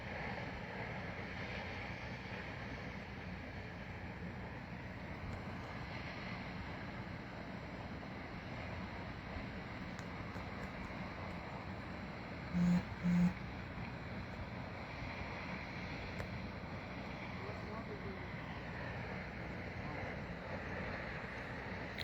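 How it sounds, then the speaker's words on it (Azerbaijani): Ağbulaq waterfall among high mountains in Lachin, heard as a steady, broad roar of rushing water from a distance, mixed with wind buffeting the microphone and a couple of brief bumps midway. "dağların möhtəşəm gözəli Ağbulaq şəlaləsi."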